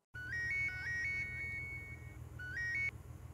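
A phone ringtone plays a bright, repeating electronic melody, loud and close, pausing briefly before the pattern starts again.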